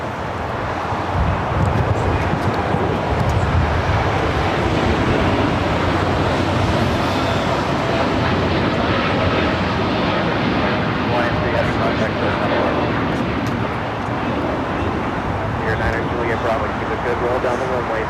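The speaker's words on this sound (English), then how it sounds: "Hawaiian Flight 3 now rolling on 25 right." A Hawaiian Airlines airliner rolls for takeoff on runway 25 right at LAX, a loud, steady engine roar that holds throughout with voices talking over it.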